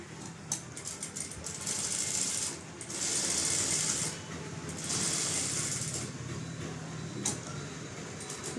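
A tailor's sewing machine stitching a saree blouse neck, running in several bursts of rapid, steady mechanical chatter, separated by brief pauses and soft clicks, close and moderately quiet.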